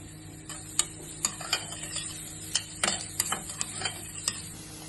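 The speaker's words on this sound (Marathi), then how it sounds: "आता तेल चांगला कडकडीत झाला की त्याच्यामध्ये घालायचो कांदो।" Onion goes into hot oil in a pan and fries with a soft, low sizzle, broken by sharp little spattering ticks and crackles.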